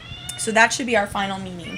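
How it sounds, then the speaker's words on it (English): A house cat meows several times close to the microphone, overlapping a person speaking during an online class meeting. "Sorry about my cat."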